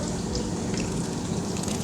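Water runs steadily from a tap during laundry, a continuous close splashing rush with no voices.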